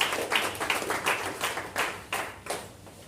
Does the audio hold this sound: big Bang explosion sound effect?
no